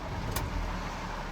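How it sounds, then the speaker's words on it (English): A VW Vento car engine idles steadily after starting, a continuous low rumble with a brief higher whir early on, close by. "So I've started the engine."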